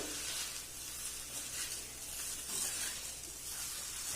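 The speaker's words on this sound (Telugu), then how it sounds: "2 spoons soya sauce, 2 spoons vinegar add చేస్తున్నానండి. యాడ్ చేసుకుని బాగా కలుపుకోవాలండి." Chicken fried rice being stirred in a pan with soy sauce and vinegar, a steady soft sizzle and hiss with faint scraping, continuous and fairly quiet throughout.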